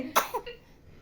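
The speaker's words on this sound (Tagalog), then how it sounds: "Inuubo na siya kakatawa." A baby coughs a few quick times from laughing, close and brief, followed by a fading breathy tail.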